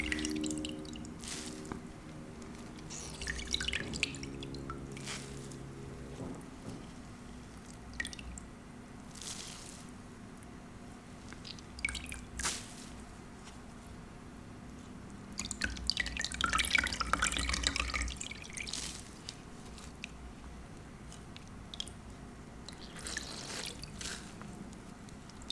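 Water dripping and squishing in a soapy bowl during washing, with soft intermittent drips, wet rubbing and a brief louder splashy stretch midway, quiet and close.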